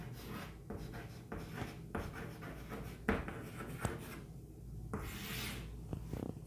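Faint rubbing strokes of writing on a board during a maths lesson on polynomials, a series of soft, scratchy marks at an irregular pace with no talk.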